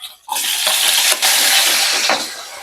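Laing, taro leaves in coconut milk, hitting a hot kawali and bursting into a loud, close, steady sizzle that fades slightly toward the end.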